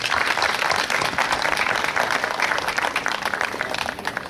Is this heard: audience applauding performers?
yes